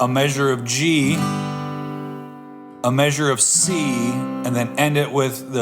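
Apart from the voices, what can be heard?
No distinct noise like a dog, phone or traffic.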